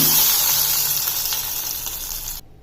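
Oil tempering with cumin and mustard seeds sizzles steadily and loudly, a dense bright crackle that fades slightly before cutting off abruptly near the end, with no voices.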